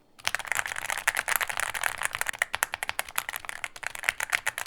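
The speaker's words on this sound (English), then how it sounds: "Listen to how the switches sound." Mechanical switches clack on an AL75 75% keyboard under quick, continuous typing, with dense close-up keystrokes in an uneven rhythm and a brief pause partway through.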